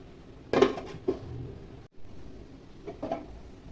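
A metal lid is set onto a pot of prawn curry with potato and pointed gourd: a clear clatter, a lighter knock, then a soft settling clink, close and isolated.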